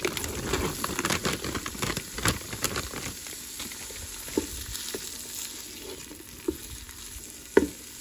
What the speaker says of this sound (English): I'm just gonna saute this for about 2 to 3 minutes